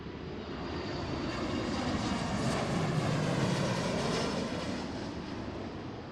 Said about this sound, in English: Coming up next is United from Dulles, 737 MAX 9.